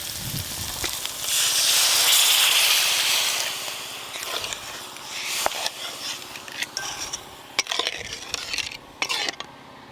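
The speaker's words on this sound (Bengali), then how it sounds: "মশলা ভালো করে কষে নিয়েছি, এবার জল দিয়ে দেবো" Water poured into fried spice paste in a pot for a Bengali fish curry gives a loud burst of steamy sizzling hiss that swells and fades over a few seconds, followed by scattered clinks and scraping of cookware.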